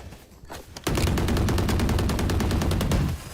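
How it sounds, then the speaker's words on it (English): Sustained rapid video game gunfire during a competitive tactical shooter match, a dense loud burst of automatic shots lasting a couple of seconds after a brief quieter lead-in, with no talk over it. "Bro's just shooting at me"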